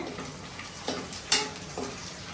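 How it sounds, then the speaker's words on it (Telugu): Curry leaves fry in hot oil in a home kitchen pan, a steady close sizzle with a few soft clinks and stirring taps breaking through. "ఇప్పుడైతే కొంచెం కరివేపాకు వేసుకున్నా ఇందులోనే"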